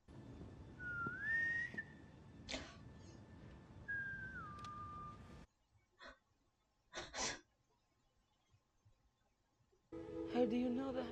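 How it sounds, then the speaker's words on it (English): A person whistles two short melodic phrases, close and clear, followed by quieter breathing and faint rustles, with a brief low-pitched sound at the end. "Your secret whistle with Nat."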